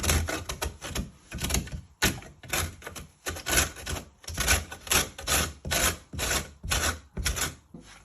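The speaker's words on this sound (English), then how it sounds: "We just want to grate it up and down." A lemon is rubbed up and down on a grater for zest, producing close, rhythmic rasping strokes in steady bursts of scraping, about one or two per second.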